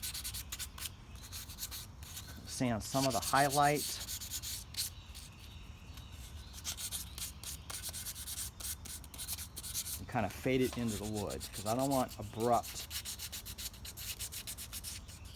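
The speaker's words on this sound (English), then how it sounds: "I'm just sanding out some of the" Sandpaper rubbing back and forth on painted wood in short, quick bursts of strokes, separated by a stretch where a person talks.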